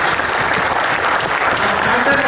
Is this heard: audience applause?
yes